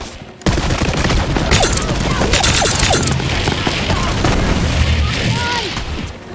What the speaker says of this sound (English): Commencing the shooting!